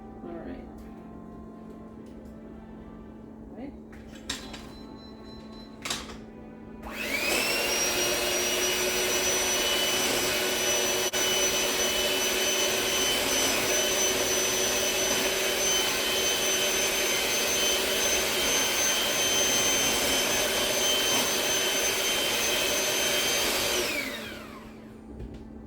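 Electric hand mixer beating sweet potato pie filling, a loud steady whirring drone that starts after a few soft kitchen knocks, runs for about seventeen seconds and winds down.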